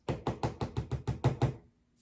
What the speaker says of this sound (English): So she knocked.